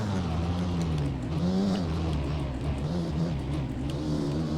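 A GasGas MC 250 two-stroke dirt bike engine in the MX Bikes game, ridden at Waterfall MX park, revs hard and steadily with rising and falling pitch as the throttle works, loud and close throughout.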